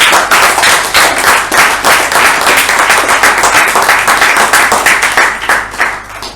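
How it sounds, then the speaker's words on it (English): A Toastmasters meeting audience in Bangalore breaks into loud, dense applause, with many hands clapping close together in a continuous rush that holds strong throughout and thins slightly at the end. "Let's give a big round of applause."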